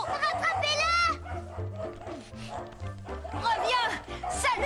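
Cartoon dog barking and growling in short excited bursts, mixed with background music and characters' voices speaking over the animal sounds.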